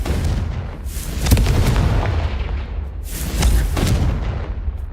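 Two heavy booming blasts from the Confringo fire spell in Hogwarts Legacy, each a loud rumbling burst that swells and fades, spaced about two seconds apart with a continuous roar underneath.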